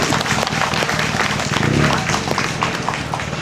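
Sustained audience applause fills a memorial ceremony for COVID-19 and vaccine victims, a steady wash of clapping from a crowd held at an even level throughout.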